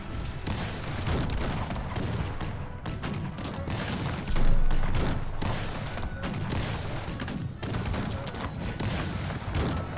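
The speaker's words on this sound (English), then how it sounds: "Making a collection of cannons." Dense, continuous battle din from the Cossacks 3 strategy game, with repeated cannon and gunfire volleys blending into a steady roar and one heavier boom standing out midway.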